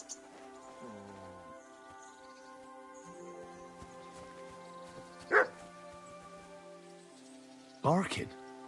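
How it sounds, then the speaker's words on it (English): A dog barks in the video game Kingdom Come: Deliverance 2, a couple of sharp, fairly distant barks spaced apart over quiet game ambience and music. "Barking."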